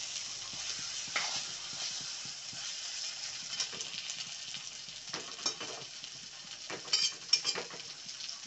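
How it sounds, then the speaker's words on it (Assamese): Fried potatoes get stirred with spices in a pan, a steady sizzle under repeated scraping and clattering strokes of a utensil, close and irregular, growing busier toward the end. "তো এতিয়া মিক্স কৰি ল'ব। 30 ছেকেণ্ডমান আমি লৰাই ল'ম।"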